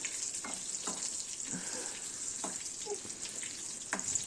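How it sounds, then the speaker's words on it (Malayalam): Garlic fries in oil while a spoon stirs it, a faint, steady sizzle with occasional light clicks of the spoon against the pan, heard close with no talking. "വെളുത്തുള്ളിയും കൂടി ഇട്ടിട്ട് അതെല്ലാം ഒക്കെ കളർ മാറുന്നത് വരെ ഒന്ന് സ്പൂൺ ഇട്ടിട്ട് കൊടുക്കാം"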